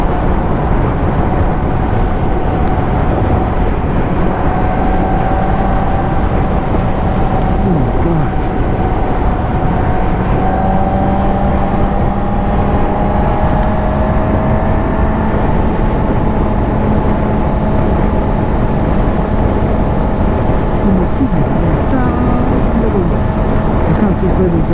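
A 2021 Honda CBR1000RR motorcycle cruises in sixth gear, its engine a loud, steady drone with a constant whine on top and heavy wind rush, while a rider's voice comes and goes over it.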